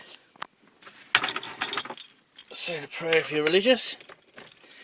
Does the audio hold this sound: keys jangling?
yes